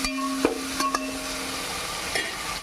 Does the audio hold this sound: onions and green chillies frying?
yes